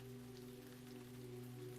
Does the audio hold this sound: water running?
no